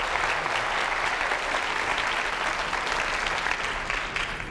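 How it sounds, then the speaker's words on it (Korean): A seated audience at a Korean science forum on neurotechnology claps together in a dense, sustained round of applause that holds steady for several seconds, with no voices on top. "박수 한번 해주세요"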